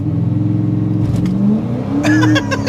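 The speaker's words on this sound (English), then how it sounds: "Just sliding the tires up. There's a little bit of smoke back there." A truck fitted with a swapped 10-speed automatic accelerates hard with traction control off, tires spinning and smoking; the engine roars loudly and continuously close by, its pitch rising and dipping as it revs.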